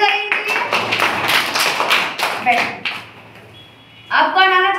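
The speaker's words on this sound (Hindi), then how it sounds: "ताली बजाइए इनके लिए" Children in a Hindi classroom clap together for a classmate, a burst of quick, fairly close claps lasting a few seconds, with a voice and classroom chatter mixed in.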